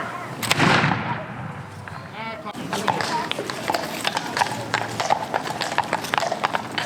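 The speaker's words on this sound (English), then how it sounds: "Got some of the gentlemanly men riding on horses through the street." Horses' hooves clip-clop along the street at Colonial Williamsburg as riders pass, a steady run of sharp knocks over a busy outdoor background of crowd noise, with a person talking nearby early on.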